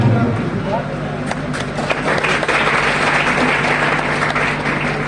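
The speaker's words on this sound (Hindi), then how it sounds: "आपकी तालियां बजनी चाहिए जब माला पहनाई जाएगी।" Audience applause at a felicitation ceremony for topper students, a steady dense wash of clapping lasting throughout with a low hum underneath and voices mixed in.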